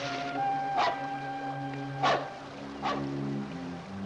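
Dog giving three short barks or yelps at about one-second intervals, fairly close, with a whimpering tone, over a sustained musical background.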